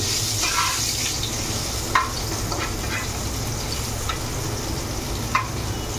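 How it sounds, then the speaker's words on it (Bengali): Bitter gourd (karela) fries in a pan with a steady close sizzle, broken by a few scraping stirs. "এই যে করলা ভাজতে সময় লাগে"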